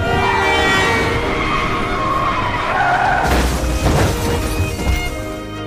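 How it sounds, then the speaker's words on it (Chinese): Tires screech in a film car-accident scene, a long loud squealing whine that breaks into a rougher, noisier burst of skidding past the midpoint. "结果一个不小心就发生了车祸。"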